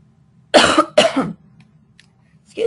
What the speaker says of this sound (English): so I apologize ahead of time for coughing